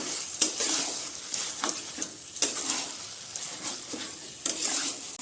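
Taro leaves being stirred and fried in a pan with a little sugar, a steady soft sizzle broken by repeated close scrapes and clinks of a spatula against the pan, with no talking.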